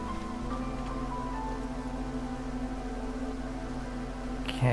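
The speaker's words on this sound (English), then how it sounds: "Hailstorm." Steady rain-like hailstorm ambience from the video game Against the Storm, a continuous even hiss with low droning music underneath, ending in a brief louder chime.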